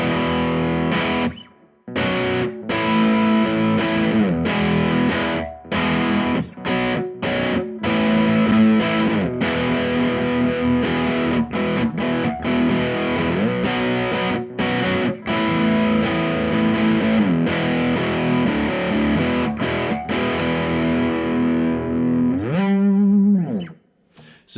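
Distorted electric guitar rhythm in A through an amp on a heavy setting, layered with a looper; dense, continuous strummed chords with brief gaps, loud and up close, ending on a ringing pitch-wavering tail.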